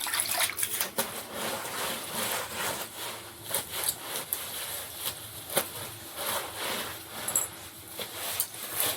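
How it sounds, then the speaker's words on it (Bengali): Water is poured and splashed over an old clay stove as it is washed at a rural home in the Sundarbans. The splashing and rubbing sound is close, continuous and irregular. "শুধু জলটা আমরা দিয়ে দিচ্ছি"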